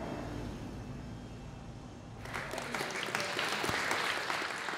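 Guests at a human microchipping party break into applause: a low room murmur gives way after about two seconds to a dense burst of many people clapping that swells and stays loud to the end.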